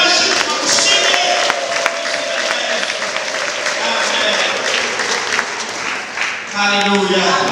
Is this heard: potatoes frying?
no